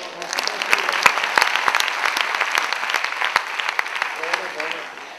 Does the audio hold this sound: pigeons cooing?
no